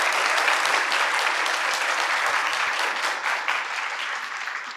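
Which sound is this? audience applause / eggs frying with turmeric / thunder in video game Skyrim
audience applause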